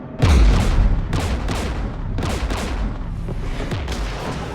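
Gunfire and explosions in the video game Mass Effect 3 during a firefight with Geth forces, loud repeated bursts of shots and booms in quick succession, dense and continuous without speech.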